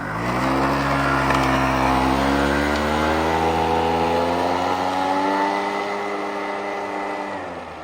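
A small scooter engine revs hard and holds a high, rising whine that slowly eases back, loud and close throughout.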